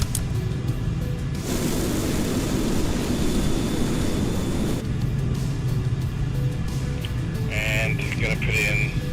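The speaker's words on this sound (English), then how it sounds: "Full afterburner." An F-14 Tomcat goes to full afterburner in Microsoft Flight Simulator. A loud, dense jet roar surges in sharply, holds as a sustained rumbling blast, then eases slightly, with voices briefly heard.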